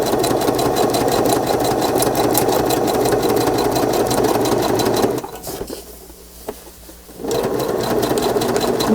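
Sewing machine stitching over a fabric tie on a journal cover runs loud and steady with a fast needle rhythm, pauses for about two seconds, then starts up again.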